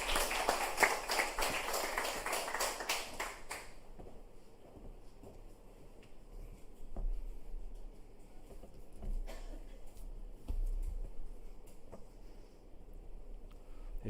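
Church congregation at a Wednesday service claps briefly in a dense burst of applause for a few seconds, then the room falls to quiet murmuring and faint background noise.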